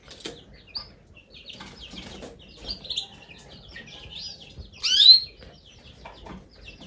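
Canaries in an outdoor aviary chirp and tweet in scattered, fairly faint calls, with a brief louder burst of song and a flutter partway through.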